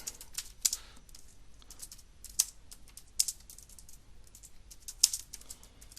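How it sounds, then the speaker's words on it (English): Irregular bursts of key presses on a computer keyboard, light quick clicks grouped in short runs with pauses between, close and fairly quiet against a low background hum, with no voices. "I'll just type the title."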